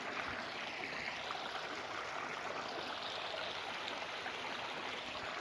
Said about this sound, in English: There's a little creek here.